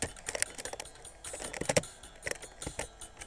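Rapid clicking of a single PC keyboard as two players share its keys during PonGL, a Pong-style game, irregular clustered keystrokes heard close up, with no talk.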